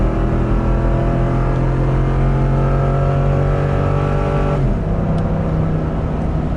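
A 2020 Ford F-350 Super Duty pickup with a 7.3 engine drones steadily under load as it climbs a hill, a constant loud hum with a slight shift in tone near the end.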